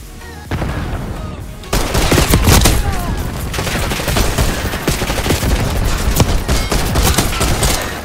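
Rapid pistol gunfire in the video game Black Ops 6 crackles in dense bursts over a busy, steady game soundscape, loud and close throughout, without speech.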